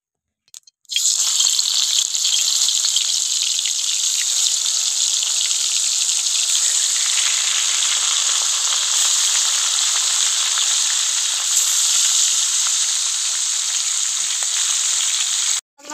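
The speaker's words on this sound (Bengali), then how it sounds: "তেল দিয়ে মাছটা ভেজে নেবো।" Silver carp frying in hot oil in a wok, a loud, continuous close-up sizzle that bursts in suddenly and crackles steadily for about fifteen seconds before cutting off, with no talking.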